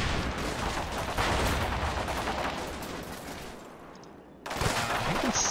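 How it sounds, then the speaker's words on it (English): Gunfire from the Combat Mission Shock Force 2 video game: dense rattling bursts of small-arms fire, loud and continuous, thinning briefly before a sharp return of shooting near the end. "It's Donahue's squad getting a bit shot up"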